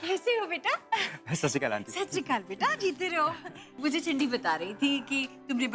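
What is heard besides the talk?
No everyday noise stands out behind the speech.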